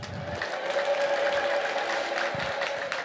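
A gathered church congregation at a monastery applauds steadily, with ululation rising above the dense clapping throughout.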